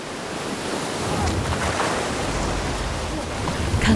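Ocean waves below a cliff, heard as a steady, close roar of surf with broadband rushing and a slight swell partway through, mixed with wind noise.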